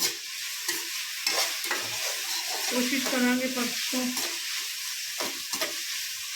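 Oil sizzles in a pan as a tempering fries, while a spoon scrapes and stirs in irregular strokes, with a person speaking briefly over the frying.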